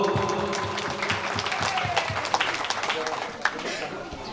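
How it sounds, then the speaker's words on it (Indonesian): Guests at a traditional Nias wedding in Laraga clap for the teachers, a scattered round of applause with a few sharper claps, mixed with crowd voices and talk throughout. "kita tepuk tangan buat Bapak Ibu guru"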